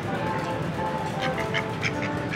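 Several short duck quacks sound over steady outdoor background noise, spaced irregularly and moderately close.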